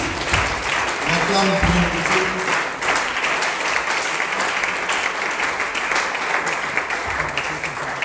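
A church congregation at a seminar applauds steadily and loudly for about eight seconds, with a voice speaking over the clapping.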